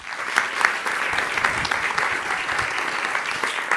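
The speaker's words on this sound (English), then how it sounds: "Please a warm applause for Akin." Audience applause at the Buen-TEK Prize award ceremony during the IMPAKT Festival, a steady dense wash of many hands clapping close by, sustained throughout with no talk over it.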